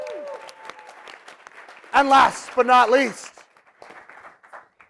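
Audience applause fills a conference hall at a national retirement-plan industry event, moderately loud and steady, briefly overlapped by someone speaking into a microphone before it tapers off.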